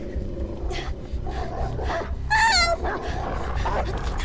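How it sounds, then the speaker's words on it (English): Growling snarl of an evil dog monster in the Beyond Two Souls video game, rough bursts and a short loud howl mixed with someone shouting over the top. "It's an evil dog! Help me!"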